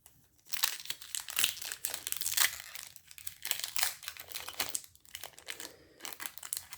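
Crinkling and tearing of a trading card booster pack wrapper being opened up close, loud bursts of plastic crumple in irregular waves with brief pauses.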